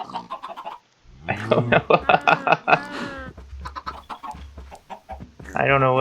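A compressed chicken from the Minecraft ATM6 modpack clucks in a rapid, loud string of squawks, close and busy, while someone speaks briefly before and during it.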